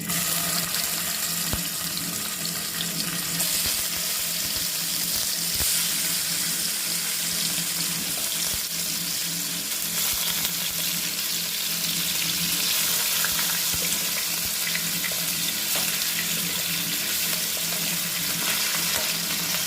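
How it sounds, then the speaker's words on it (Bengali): Pieces of katla fish fry in hot oil with turmeric, giving a long, even, hissing sizzle that stays steady throughout, with faint clinks now and then. "মাছগুলো আমি ভেজে নিচ্ছি"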